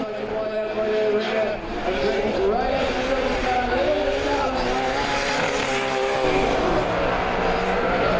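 An RB26-powered Nissan 180SX drift car runs on track at Punchestown during an Irish Drift Championship round, its engine roaring continuously with rising and falling revs beneath a commentator's voice.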